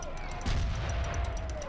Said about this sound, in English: I'm sure that's how cannons work.